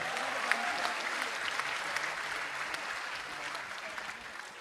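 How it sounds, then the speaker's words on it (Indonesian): Steady, dense applause from an audience at a youth-focused political rally for change during Indonesia's 2024 election campaign, sustained and fairly loud throughout with scattered sharper claps poking through. "Tepuk tangan buat kita semua."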